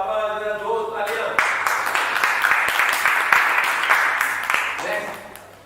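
Audience applause at a talk on wealth and money, a dense burst of many hands clapping that starts after a brief voice and holds steadily for several seconds before easing.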